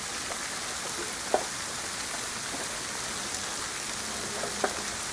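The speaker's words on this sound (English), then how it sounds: "that's ice coming down with a teeny bit of rain" Ice pellets falling with a little rain in Elizabethtown, Kentucky, a steady dense hiss of precipitation with a few faint sharp ticks of pellets striking nearby surfaces.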